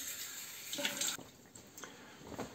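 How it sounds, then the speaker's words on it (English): Running tap water splashing as a plastic-guard Gillette Skinguard Sensitive razor is rinsed, a soft close gush that shifts in tone as the razor moves through the stream. "Okay, a little bit of rinsing off."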